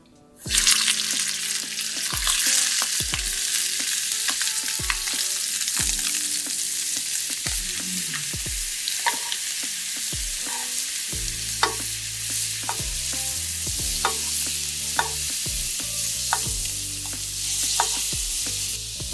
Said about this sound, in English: the trick to cooking scallops is to make sure that your pan is sizzling hot